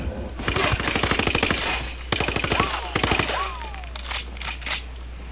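Rapid automatic gunfire bursts rattle in the co-op video game Ghost Recon Wildlands, loud and close, with a couple of long strings of shots followed by scattered fainter single shots.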